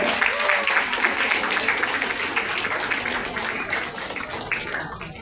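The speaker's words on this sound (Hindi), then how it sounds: "ताली मार दीजिएगा" Audience applause at a joint Christmas carol gathering of a Catholic and a Lutheran church, steady dense clapping filling the room for about five seconds with no voices over it.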